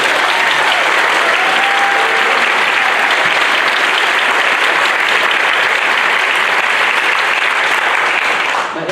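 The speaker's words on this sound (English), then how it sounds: "Can we give them a round of applause?" An audience at a Kansas City CRT and DEI town hall gives a round of applause for supporting legislators, heard as loud, dense, sustained clapping that carries evenly through the whole stretch without a break.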